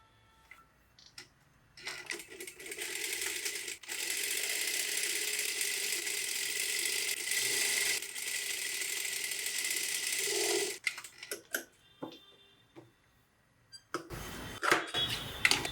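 A sewing machine stitches a blouse strip in a fast, steady whirring burst of several seconds, framed by quieter clicks and handling noises before and after.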